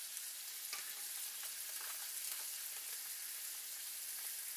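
Curry powder is sprinkled into a frying pan and the oil crackles with a faint, even sizzle, broken by a few soft scraping stirs; no voices.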